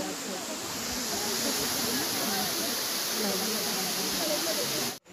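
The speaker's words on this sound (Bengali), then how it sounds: "এই ফলসটা ছোটই, খুব একটা বড় না, আর যেহেতু বর্ষাকাল সেই কারণে ফলসগুলোতে ভালো জল আছে" A small waterfall in Shillong swollen with monsoon water roars as a steady, dense rush of falling water, loud and unbroken, ending in an abrupt cut.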